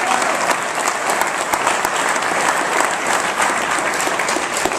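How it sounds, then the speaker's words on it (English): A crowd applauds steadily, dense clapping filling the room for several seconds without pause. "And a big round of applause for Gretchen."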